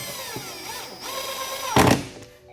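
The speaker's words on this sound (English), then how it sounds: "Grab a 10mm nut driver and push up, and it'll start into the plastic." A 10mm nut driver drives a fastener up into the plastic bumper of a 2018 Jeep Wrangler JL while a license plate bracket is installed, giving a brief close grinding burst near the end after a steady mechanical whine.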